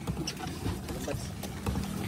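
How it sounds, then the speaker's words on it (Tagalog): Paddles splashing and churning water as a rescue boat with a failed engine is rowed along a flooded, fast-flowing river, a steady rough wash with occasional louder strokes and faint voices underneath. "nagkaproblema yung makina, kaya ngayon sagwan ang kanilang ginagamit"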